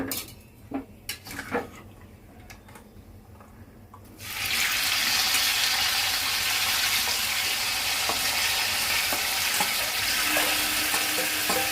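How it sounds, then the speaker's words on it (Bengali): Taro stolons drop into a pan of frying spices with a hilsa fish head, bringing a sudden loud, steady sizzle after a few utensil clinks and quieter moments. "এবার এর মধ্যে আমি এই কচুর লতিটা দিয়ে দেব।"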